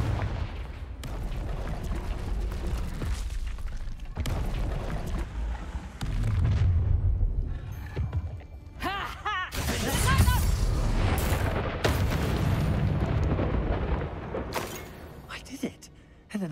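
Confringo fire-blast spell explosions in Hogwarts Legacy, several loud booming blasts with crackling bursts scattered through the stretch, mixed with game sounds, and a voice speaks over parts of it.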